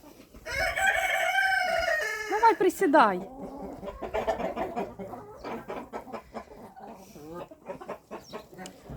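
Turkey hens and a tom mating in a mixed flock, with loud poultry calls and a crow-like burst early on, then clucking and gobbling under a woman's nearby speech.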